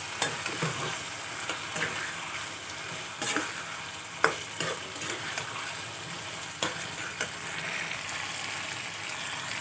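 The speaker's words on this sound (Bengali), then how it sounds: "এখন দিয়ে দেবো ভেজে রাখা পটল আলু দিয়ে কিছুক্ষণ কষিয়ে জল দিয়ে দেবো" Pointed gourd and potato frying in a pan, a continuous busy sizzle with repeated scraping stirs and an occasional sharp clink of the spatula against the metal, close up and alone without voices.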